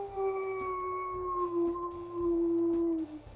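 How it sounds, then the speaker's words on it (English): Wolf howls from the video game WolfQuest, a long sustained tonal howl holding steady pitch with harmonics for about three seconds, loud and close, over a low rhythmic background hum. "let's listen to these ones, the howls here."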